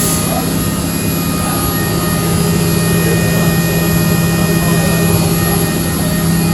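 A machine mills metal motorcycle triple clamps, a loud, steady mechanical drone with a thin whine running through it, unbroken from start to finish.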